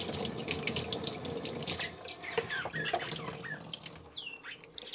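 Running water gurgles and splashes as a dilute betadine solution flushes a wound on an injured baby rhino iguana, a continuous faint wash with small drips and trickles.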